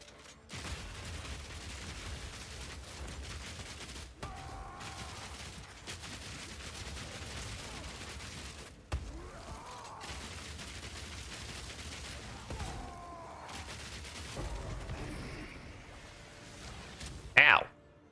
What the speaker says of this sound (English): Bro, can we stop with the explosions, please?